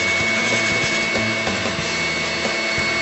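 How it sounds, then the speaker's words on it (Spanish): A whisk beats milk into beaten egg in a bowl for floating islands dessert, a steady busy scraping churn that runs loud and close with no talk. "para que la leche se empiece a acostumbrar a la textura del huevo y no dejar de batir en ningún momento"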